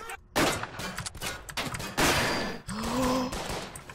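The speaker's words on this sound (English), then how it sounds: "We're shooting at our own team!" Bursts of automatic gunfire ring out in a war video game as players fire on their own team. There are several loud rapid volleys close up, with brief electronic tones between them.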